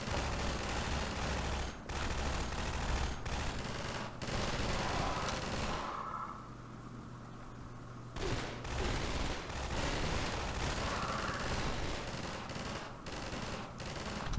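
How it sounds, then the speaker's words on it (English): Dense, continuous automatic gunfire in the shooter game Half-Life 2, rapid overlapping bursts that are loud and sustained, briefly dropping to a muffled lull midway before resuming. "I'm gonna wait till the firing stops."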